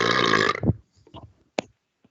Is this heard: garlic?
no